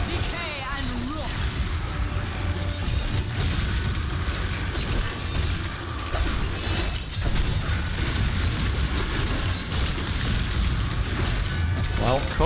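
Repeated corpse explosion blasts from the Necromancer in Diablo III, booming bursts over constant battle noise and game effects, heard alongside someone talking during play.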